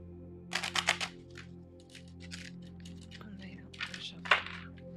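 A few quick riffling bursts of cards being shuffled, crisp and close, separated by short pauses over a low background hum.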